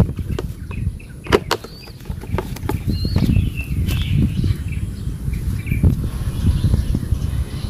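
A racing pigeon shuffles and flaps inside a small cage, giving scattered wing flutters, soft taps and scrapes with a few faint chirps against a low outdoor background.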